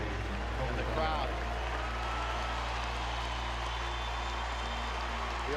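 Sustained basketball arena crowd ovation for Kobe Bryant in 2015, a dense, steady wash of applause and crowd noise holding at an even level throughout, with faint voices mixed in.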